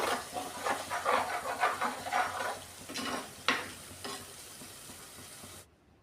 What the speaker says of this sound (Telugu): ఉల్లిపాయ పేస్ట్ కొంచెం కలర్ మారినంత వరకు వేయించుకోవాలి